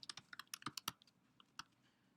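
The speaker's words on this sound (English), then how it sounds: "and I start typing in here" Quick, light keystrokes on a computer keyboard while entering text into a filter field, about a dozen crisp clicks in an uneven burst, then a pause and a couple of isolated taps, close and fairly quiet.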